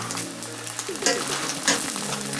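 A simple egg omelette fries in a pan with a close, continuous sizzle and crackle, and a few louder pops and scrapes come from the pan partway through. No one speaks.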